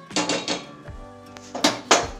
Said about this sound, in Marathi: गॅस चालू करून घेऊया आणि तवा ठेवून घेऊया